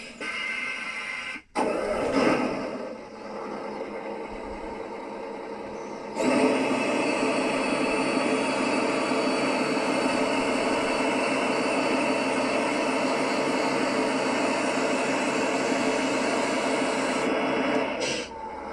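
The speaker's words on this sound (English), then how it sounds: "when I start tipping the bed, the RPMs on the engines should go up" A 3D printed RC Komatsu HM300-5 dump truck motor whirs, then surges into a louder, steady whining drone as the bed tips and holds at high revs for about ten seconds before easing off.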